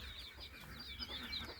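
Chickens clucking softly while eating feed mixed with vitamins and minerals, a faint, continuous farmyard murmur of overlapping clucks at moderate distance.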